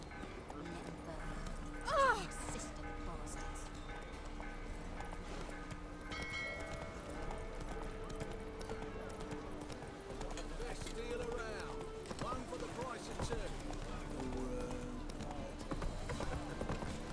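Hooves of Roach, the horse in The Witcher 3: Wild Hunt, clip-clopping in a quiet, steady rhythm, with a brief louder clatter near the start and faint ambient game sounds behind.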